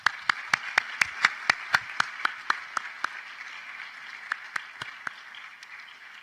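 Sparse applause at a celebration of life, a small audience clapping in a steady, fading rhythm of distinct claps that thins out over several seconds, moderately near.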